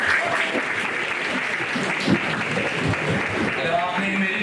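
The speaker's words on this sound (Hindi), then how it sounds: "एक और अच्छी से ताली बजा दो" Applause from a college audience after a talk on wastewater treatment: dense, even clapping filling the room for a few seconds with no pause.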